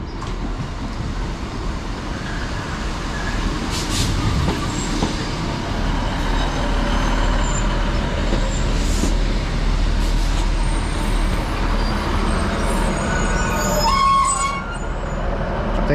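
Loud, steady rumble of a Northern class 156 diesel passenger train pulling into a station on the East Lancashire line, wheels grinding and squealing faintly near the end, with no voices.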